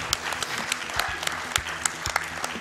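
Steady clapping from a crowd at a speedrunning marathon event, dense and continuous with a few sharper claps standing out.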